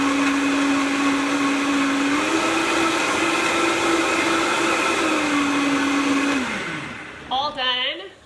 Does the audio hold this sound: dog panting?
no